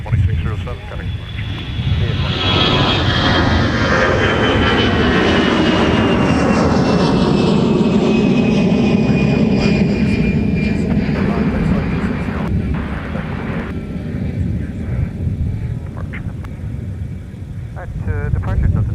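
A jet airliner rolls and lifts off from a runway at Minneapolis–St. Paul airport, a loud sustained roar with a rising then falling whine as it climbs away, while air traffic control radio chatter runs over it.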